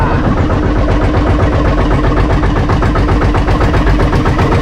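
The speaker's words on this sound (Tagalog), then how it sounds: "Full engine, isang D12, isang D20." A fishing boat's two engines, a D12 and a D20, run together. They make a loud, steady, close rumbling drone with a constant throbbing pulse throughout and no pauses.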